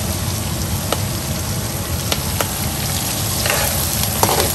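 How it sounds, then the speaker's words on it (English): Garlic and curry leaves sizzle steadily in hot oil on low heat for Maharashtrian chiwda, a continuous close crackling hiss broken by occasional sharper pops, with no talking. "Saute it for couple minutes on low or medium low."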